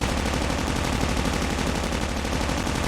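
A PDW submachine gun fitted with an FMJ attachment fires in Call of Duty Mobile, one dense, unbroken automatic burst of rapid shots that stays loud and constant for the whole stretch.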